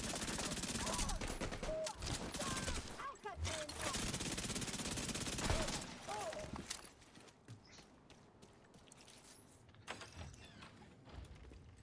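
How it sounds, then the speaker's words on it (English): Backfire gun fired in The Division 2, rapid bursts of gunfire over busy game noise, loud and dense at first, then fading to sparse scattered sounds. "I love the backfire. It's such a fun gun."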